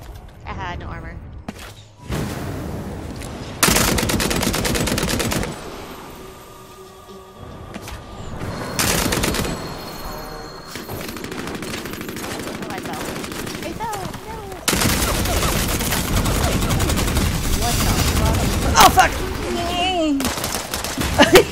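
Gunfire in the video game Vampire: The Masquerade Bloodhunt, loud bursts of rapid automatic shots in several long stretches, with a voice talking between them.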